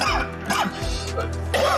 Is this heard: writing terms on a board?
no